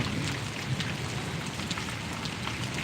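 A heavy downpour drums on surfaces in Paravadi village in Gariadhar taluka, a loud, unbroken wash of rain close at hand that holds steady throughout, with no voices.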